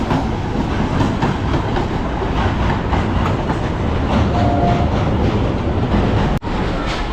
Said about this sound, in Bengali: ট্রেন ছেড়ে দিয়েছে, মায়াপুরের উদ্দেশ্যে রওনা হয়েছে